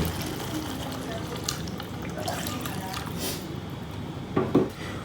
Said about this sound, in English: Then I'll add some water.